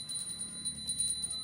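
Ritual hand bell rung during a Hindu naivedyam food offering, a steady high metallic ringing repeating in quick strokes throughout over a low room hum, moderately faint.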